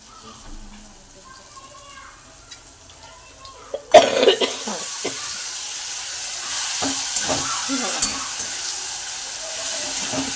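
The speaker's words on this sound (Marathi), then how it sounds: "ही तयारी आहे मटन फ्रायची" Mutton sizzling as it fries in a pan for a home-cooked mutton fry, a steady hiss that starts abruptly and continues, with some stirring scrapes and a cough over it.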